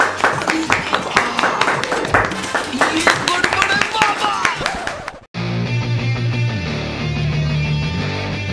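Hand clapping runs as a quick, steady series of claps under lively talking voices for about five seconds, then cuts abruptly to a different, music-like background.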